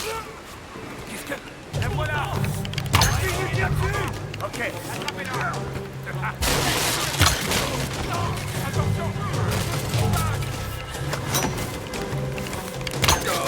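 Gunfire rattles steadily in a Lara Croft video game, a dense run of shots and booms that continues under excited talking throughout.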